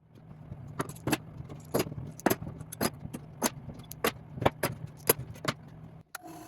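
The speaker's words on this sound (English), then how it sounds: "I'll add an additional board as I'm putting on the clamps" Woodworking clamps being fitted onto glued plywood boards for a sword scabbard: a string of sharp, close metallic clicks and ratcheting snaps at uneven intervals over a low background hum.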